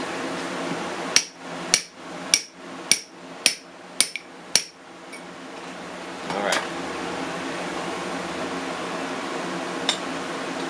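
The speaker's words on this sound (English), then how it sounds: "I'll probably take a ball peen hammer and mushroom that over slightly" Seven sharp, evenly spaced ball peen hammer strikes ring out on metal during knife making, followed by a hum of machinery and one faint later knock.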